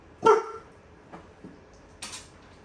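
A dog lets out a sharp bark, then a few quieter yips and a final bark, close by in a quiet room.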